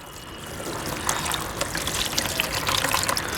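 Water poured steadily into cocopeat in a grow bag from a terrace gardening kit, a continuous close trickle that grows slightly louder, with no talk.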